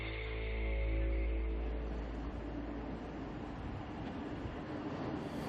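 A high-speed train rushes past with a swelling low roar that peaks early and settles into a steady rumbling hiss of wheels and air, loud and close, with no voices.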